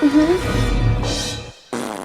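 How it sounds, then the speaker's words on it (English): A fart sound effect from the Scary Movie comedy film, a short flatulent burst near the start followed by other sounds and a brief gap, loud and close. "What's that noise? Oops. I farted."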